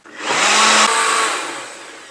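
A mixer grinder whirs loudly on white coconut chutney in a short, close burst that starts abruptly, peaks, and then winds down as the motor slows.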